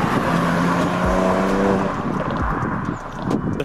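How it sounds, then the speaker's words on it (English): A tuned BMW E92 335i with downpipes roars past up close, its exhaust note rising and falling, with a couple of low thumps and no talking. "Listen to that stock exhaust."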